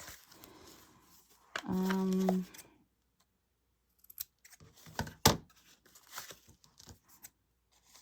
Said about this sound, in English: now maybe here I'm gonna trim a little bit